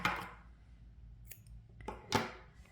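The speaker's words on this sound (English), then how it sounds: "So cut the yarn" Scissors snip through crochet yarn to finish a granny square hat, giving two short, close crisp cuts with a quiet pause between them.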